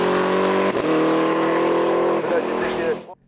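Powerful Ginetta race car at speed on a hillclimb stage at Mont Dore, a loud, sustained high engine note with a brief dip near the start, then cutting away sharply at the end.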